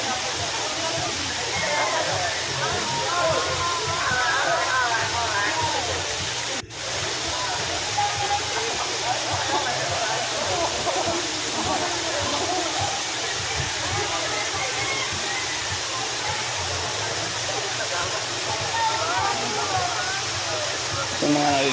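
Water tumbles continuously down a waterfall, a steady broadband rush that fills the scene from start to finish, with faint voices under it and one brief click partway through.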